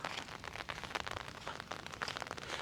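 Light rain pattering steadily on a surface outdoors, a soft continuous hiss with scattered drop ticks, fairly quiet and even throughout, with no talking.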